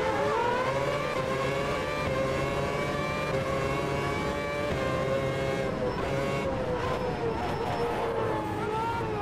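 A Formula 1 car engine screaming at high revs while racing around Monaco in the game Automobilista 2, a sustained loud whine with rising and falling pitch through gear changes, close and continuous.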